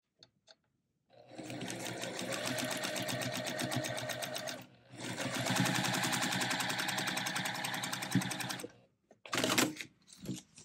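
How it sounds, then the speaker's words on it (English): A sewing machine stitches fabric onto a paper-piecing template in two long, fast, rattling runs, then a short final burst, heard close and clear with no talking. "take it to the machine and stitch."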